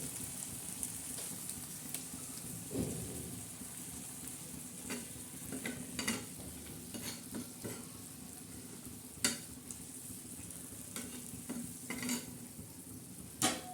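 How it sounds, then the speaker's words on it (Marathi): Steady sizzling and frying of spiced bitter gourd on a flat griddle, with occasional scraping and clinks of a utensil stirring, close by, no talking. "छान असे कारले हलवून घ्यायचे सगळे"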